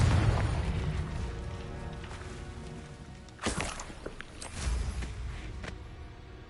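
Hogwarts Legacy's Confringo fire spell bursts in a sharp explosive boom, followed a second later by a softer second blast, set against a quieter ambient game backdrop.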